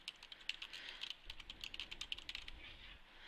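A search term typed on a computer keyboard, a quick run of light, close key clicks with an irregular rhythm, quiet and alone.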